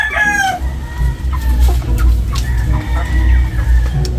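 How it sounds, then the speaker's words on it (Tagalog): A rooster crows loudly and up close with a rising then falling call, then clucks and shorter crowing bursts follow over a constant low background hum on a backyard poultry setup. "Isang barako."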